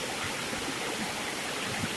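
Running stream water rushes continuously and close by, a full, steady broadband hiss with no pauses or voices.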